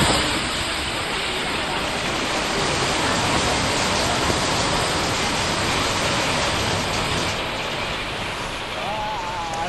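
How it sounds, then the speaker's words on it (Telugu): Heavy rain with gusty winds over Hyderabad streets makes a steady, dense wash of noise for nearly ten seconds, with a faint tone rising near the end. "ఈదురుగాలులతో కూడిన వాన పడింది"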